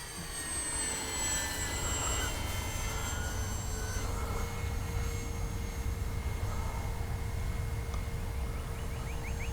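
Kavan Bristell B-23 radio-controlled model aircraft flying in the evening, a steady continuous engine drone with a sustained high whine, heard at moderate distance and alone without talk throughout.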